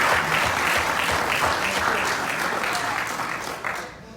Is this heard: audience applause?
yes